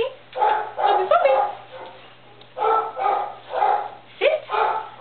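A young puppy, about five weeks old, lets out a run of yips and short barks in close succession, some rising into whiny squeaks, with faint speech under them.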